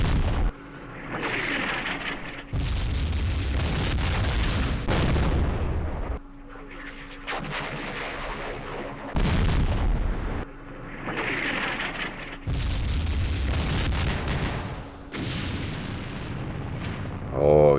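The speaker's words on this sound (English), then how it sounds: "our artillery is way more effective now" Artillery fire in the war game Campaign Series Vietnam at Dien Bien Phu, a series of heavy booming blasts with long rumbling tails, several in succession, with a voice talking between them.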